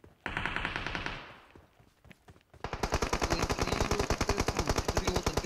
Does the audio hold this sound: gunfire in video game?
yes